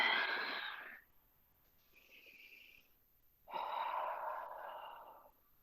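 Deep breathing during a yoga session: a long airy inhale, a quieter pause, then another full breath, close and alone without speech.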